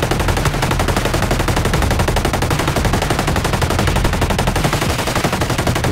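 Rapid automatic gunfire in the video game Ghost Recon Breakpoint, dense and continuous for several seconds with bursts running together at steady loudness, and no talk over it.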